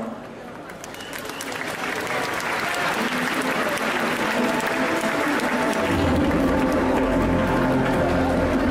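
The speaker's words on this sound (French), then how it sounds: "un tonnerre d'applaudissements pour Soso sous les jupins" Sustained audience applause at an indoor cosplay parade, a dense wash of clapping that swells and grows louder toward the end, with faint voices underneath.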